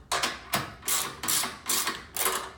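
A nut being tightened on the back of a metal sign post during assembly: five or six rhythmic, close, crisp ratcheting bursts, each a short metallic clicking sweep, evenly spaced with brief pauses between.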